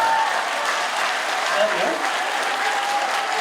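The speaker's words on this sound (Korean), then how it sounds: "여자분들이 박수 치시니까 대단히 고맙습니다" Women in a lecture-hall audience applaud in a steady, dense wash of clapping that holds at a fairly loud level for the whole stretch.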